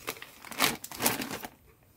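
Thin foil strands salvaged from gift tags rustle and crinkle in the hands, in a couple of quick close bursts that fade to near quiet.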